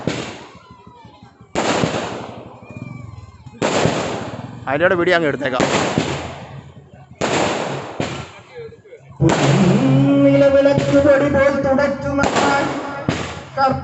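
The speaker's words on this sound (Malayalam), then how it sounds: "പടക്കം" Firecrackers burst during a temple festival aarattu procession, coming in loud, separate volleys with short gaps between them. A longer crackling barrage follows, and people talk nearby between the blasts.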